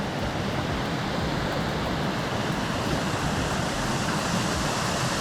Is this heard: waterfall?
yes